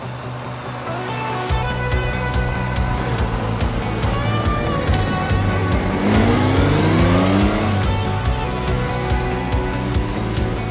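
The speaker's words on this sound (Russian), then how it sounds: "Голдвинг комфортный мотоцикл." A Honda Gold Wing motorcycle engine while riding on empty roads, a mid-pitched hum that revs and shifts with rising tones, under steady wind and road noise, no talk.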